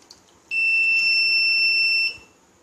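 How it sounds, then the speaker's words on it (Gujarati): A loud, high-pitched electronic warning buzzer from a water-level alarm model sounds as a single steady tone for over a second, then cuts off, leaving faint background hiss. "બઝર અટકીને વાગશે"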